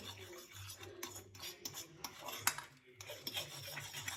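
Whisk or spoon gently stirring whipped cream (chantilly) in a bowl for a frozen pineapple charlotte, giving soft repeated scraping strokes in an uneven rhythm, close by and fairly quiet, with no talking.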